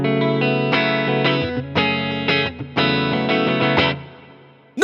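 Electric guitar played through a JHS 3 Series Reverb pedal set to a light reverb: a series of loud strummed chords and riffs with short, subtle tails that ring out and fade at the end.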